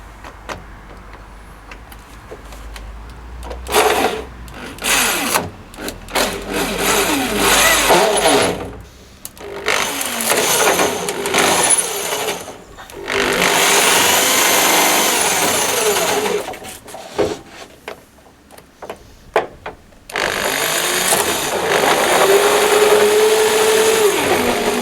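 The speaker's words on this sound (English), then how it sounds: "I'm going to drill it now so I can bolt," A power drill bores holes into the old front bumper of a Talbot Express motorhome, whining in several loud bursts that rise and fall in pitch, separated by short pauses and quieter handling noise.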